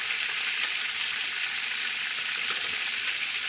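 Teriyaki meatballs searing in a pan, a dense, steady high sizzle with fine popping spatters, constant and close, with no one speaking.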